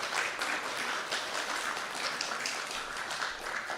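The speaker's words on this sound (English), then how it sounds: "Can you give this young gentleman a big clap?" An audience at a temple class applauds a young boy, a dense, steady burst of many hands clapping together, fairly loud and continuous with no talking over it.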